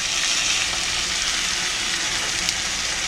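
Bacon strips frying in a pan, a steady close sizzle and crackle filling the whole stretch with a few sharper pops and no voices over it.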